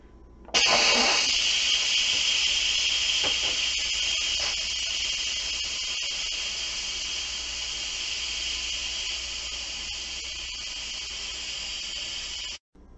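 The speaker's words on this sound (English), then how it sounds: "I'm going to come back when this is fully vented and this little button is all the way down by itself." Instant Pot pressure cooker venting steam, a loud steady hiss that bursts on abruptly, holds for about twelve seconds with slight fading, then cuts off; no talking.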